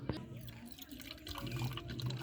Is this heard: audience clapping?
no